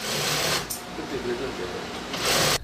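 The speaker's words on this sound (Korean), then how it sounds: "재봉틀 소리가 요란한 이곳에서" Sewing machines run in a busy garment workshop where older and younger workers sit at their stations, a loud steady mechanical whir with bursts of louder stitching at the start and end.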